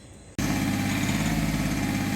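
Hyundai Xcent engine with an acceleration hang, white smoke and injector ticking fault kicks in abruptly after a quiet moment and settles into a loud, steady idle with a fine rhythmic pulse.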